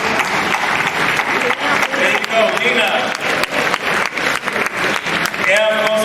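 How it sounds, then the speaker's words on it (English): Graduate students at a welcome orientation applaud themselves in a dense, lively burst of clapping, while a voice speaks briefly over the crowd noise. "Give yourselves a round of applause."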